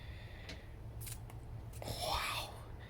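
Pruning shears snipping through a scallion in a garden tool test, a few crisp close cuts and a brief rustle, with a low background hum.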